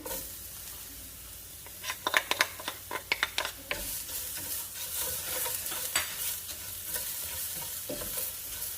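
Onion hits a pan of toasting rice for a one-pan sausage and rice dish, a soft sizzle rising into busier frying with a cluster of quick stirring clacks, close and without talk.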